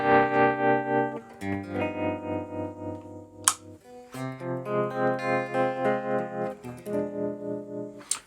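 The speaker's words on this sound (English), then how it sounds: "Which is a sound I use a lot. I like tremolo." Electric guitar played through a tremolo effect on a Fractal FM9 modeler, sustained chords pulsing in steady rhythmic volume swells over about eight seconds, loud and alone with no talk.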